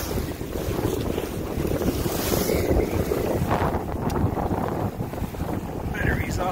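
Compac 19 sailboat pushing through gusty wind and big seas: loud, continuous wind buffeting the microphone over rushing water and breaking waves, steady throughout.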